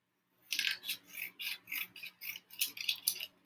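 Scissors cut through a paper index card in about nine quick, evenly spaced rasping snips, close and fairly quiet after a brief moment of silence.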